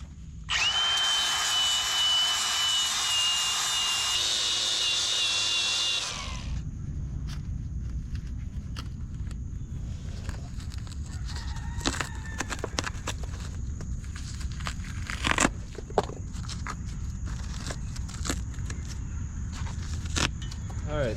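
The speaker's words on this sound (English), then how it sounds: "So let's get this grinded back to some raw fiberglass and get it repaired." A small handheld grinder works on a damaged fiberglass boat keel, loud and steady whine for about six seconds, then cuts off into quieter scraping and shuffling with scattered knocks.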